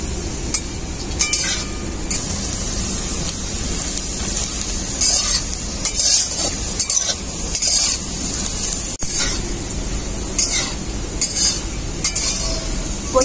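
Taro pieces sizzle steadily in hot mustard oil in a kadai, with repeated scraping and clinking of a spatula stirring them throughout.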